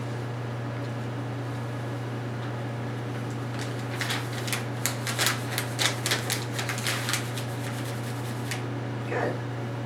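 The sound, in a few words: paper rustling near a puppy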